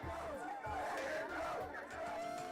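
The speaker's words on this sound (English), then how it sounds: "The arrest drew the attention of a large crowd, which began chanting and surrounding the deputies." A large crowd chants and shouts around sheriff's deputies during an arrest, a dense steady roar of many voices with rising yells, continuous and fairly close throughout.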